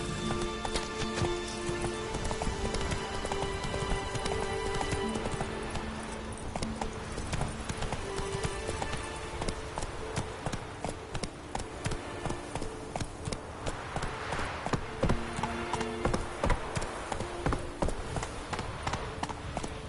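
Horse hooves clip-clop steadily at a trot in The Witcher 3, a continuous close rhythm of hoofbeats running throughout with faint background ambience.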